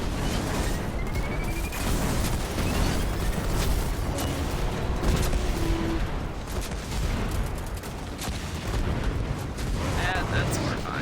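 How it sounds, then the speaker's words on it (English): Explosions go off in the video game Destiny 2 as a heavy walker boss is destroyed, a dense run of booming blasts and crackling bursts under excited players talking. "We felt those explosions from here"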